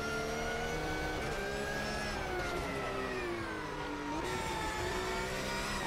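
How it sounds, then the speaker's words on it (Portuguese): A race car engine in the racing game Automobilista 2 drones at high revs, its pitch rising and dipping smoothly as it accelerates and eases off, continuous and loud throughout. "Além de terem mudado o som do motor"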